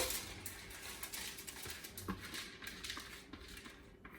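A foil-lined baking dish holding wet granola mix is shifted across a surface, giving faint crinkly scrapes and light metallic clinks in short, uneven bursts.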